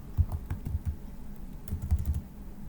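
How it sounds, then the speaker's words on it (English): Keystrokes on a computer keyboard while entering a command in AutoCAD, a quick irregular run of soft clicks close to the mic, pausing briefly midway before another burst. "You'd have to type in upload,"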